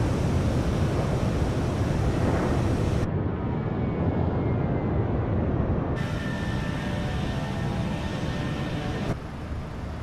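Airliner jet engines in Microsoft Flight Simulator 2020 roar as a steady, loud broadband rumble while the plane climbs and accelerates, with a faint whine running through it; no talking.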